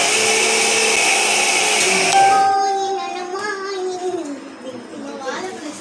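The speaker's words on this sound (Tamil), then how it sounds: "ஸோ நம்ம எல்லாத்தையும் போட்டு நல்லா மிக்ஸ் பண்ணி அரைச்சாச்சு" A mixer grinder whirs loudly while blending rava cake batter sweetened with country sugar, running steadily for about two seconds before cutting off, after which voices, including a child's, carry on.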